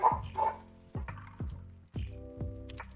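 A dog barking at something outside, a series of five or six sharp barks in an irregular rhythm, near and fairly loud, with no talking.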